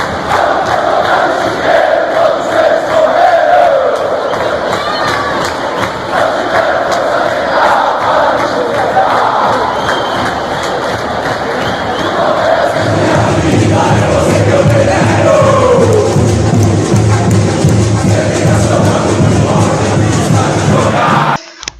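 A large stadium crowd of Palmeiras football supporters chants and roars together, a dense, loud wall of massed voices that swells and grows deeper partway through, continuing without pause.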